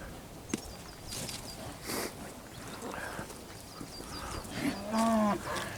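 Young heifers being turned out of a shed moo nearby, with hooves shuffling and thudding on the ground, and one long, loud low call near the end.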